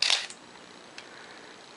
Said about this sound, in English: But we can set the shutter speed manually here to 1/1000th.